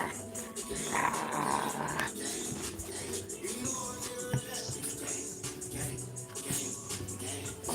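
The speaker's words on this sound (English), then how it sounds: "This is the best dog," A dog growls and whimpers softly close by through a noisy indoor scene, low rumbling sounds mixed with shuffling and someone talking nearby.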